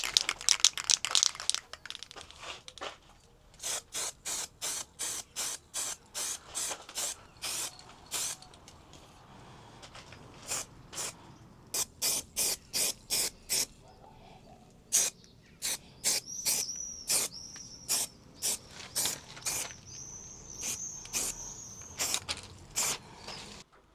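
An aerosol can of primer sprayed onto VW Crafter badges in short, repeated bursts, dozens of crisp hissing puffs with brief gaps, some quick rattling runs and a faint whistle late on, close by with no talking.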